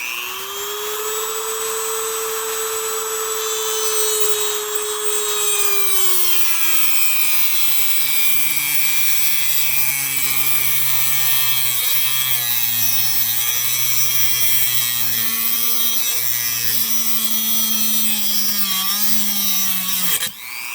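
A cutting disc grinds through the axle of an RC car, a loud continuous whine that slowly drops in pitch as the disc bites into the metal, running steadily without pause until it cuts off abruptly at the end.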